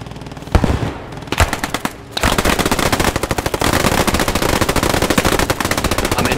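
Sustained automatic machine gun fire in the World War II shooter Squad 44, set during a 101st Airborne winter assault on Haguenau; after a few separate loud shots, a dense, rapid, continuous burst runs loud for several seconds.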